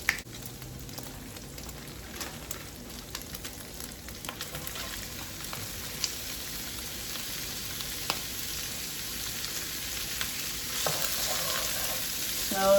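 Broccoli and beef stir-fried in a pan, a soft, steady sizzle with intermittent scraping and tapping as the food is stirred, no one talking.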